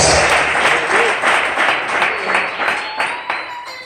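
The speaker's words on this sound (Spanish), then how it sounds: "Ese aplauso es para el rubio de Galilea." A church congregation applauding, loud, dense clapping close by that swells in waves and thins toward the end, with a crowd murmuring underneath.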